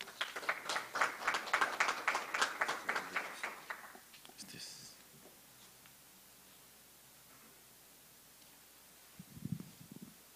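Applause from a seated audience greeting a speaker at a surgical society scientific session on laparoscopic gastric cancer surgery, a dense burst of clapping for about four seconds that fades out, then quiet room tone with a short murmur near the end.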